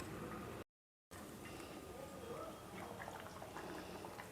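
A bottle gourd, drumstick and dried fish curry simmers in a pot, bubbling softly and steadily at low volume, broken by a brief moment of silence near the start.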